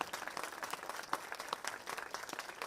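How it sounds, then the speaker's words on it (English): A short burst of applause from an awards ceremony crowd, many hands clapping in a brisk, uneven patter at moderate distance. "I want to give applause to the parents"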